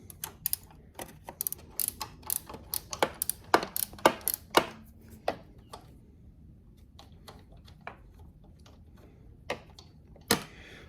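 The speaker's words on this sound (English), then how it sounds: "Now I'm going to loosen the top pinch bolts, and I'll just loosen those right off." Wrench work on the top pinch bolts of a Yamaha Tenere 700 front fork: loud metallic ratchet clicks and clunks come in irregular bursts, denser at first and then sparser, close up with no voices.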